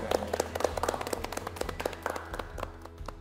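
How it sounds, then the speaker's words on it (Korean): A small audience claps for a professor at a talk, with quick, uneven, fairly close handclaps over about three seconds and a faint low hum underneath. "박수 한번 좀 드리도록 할게요"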